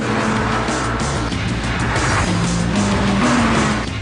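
A car engine revving hard to about 8,000 RPM, a loud sustained high-pitched howl whose pitch climbs steadily toward the end, close and dominant with no talk.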